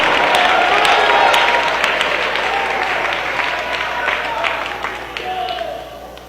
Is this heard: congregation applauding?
yes